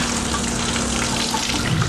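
Running water splashes and gushes steadily at close range, like washing under a flowing tap.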